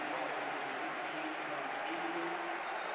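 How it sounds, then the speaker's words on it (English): A basketball arena crowd at a Michigan versus Purdue men's game roars and cheers in a steady, dense wash of noise with applause mixed in, continuous throughout with no distinct voices. "That gets the crowd fired up."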